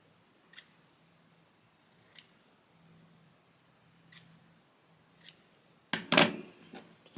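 Scissors snip excess interfacing fabric in a handful of separate, crisp cuts, close and quiet, with a quick cluster of snips and rustling near the end.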